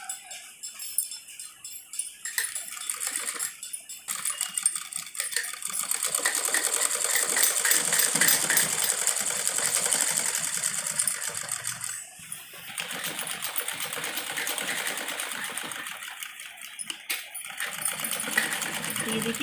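Sewing machine stitching along the folded, tucked-in edge of a salwar waistband, a steady mechanical whir that runs continuously with brief pauses and restarts, close and moderately loud.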